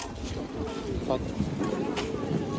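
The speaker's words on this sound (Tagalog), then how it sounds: "Lakas ng alon." Strong sea waves surging at Victoria Beach in Finale Ligure, Italy, heard as a churning rush buffeted by wind noise on the microphone, with people talking close by over the surf.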